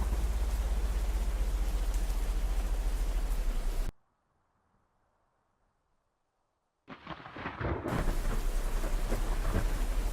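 Loud, dense rain pours in a Roblox game thunderstorm, with heavy thunder rumbling underneath. The sound cuts out abruptly to near silence for a few seconds, then the roaring storm returns.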